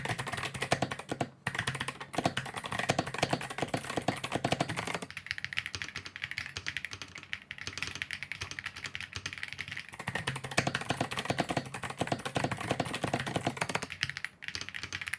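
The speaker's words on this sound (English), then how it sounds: "a sound test between these clicky keys and these very subtle, nice switches" Continuous rapid typing on a Mercury K1 PRO mechanical keyboard, dense clicky keystrokes up close, shifting to a softer, muted clatter from subtler switches partway through.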